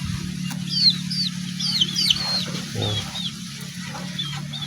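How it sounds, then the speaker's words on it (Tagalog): Hybrid chickens kept for backyard breeding cluck and call in bursts at a moderate distance, over a steady low hum, with no talk. "Moro ni akong mga manok tre, akong gipang breeding."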